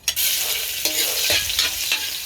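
Pork sautéing in a hot pan, a loud, close, continuous sizzle with a few stirring scrapes and knocks, no voices.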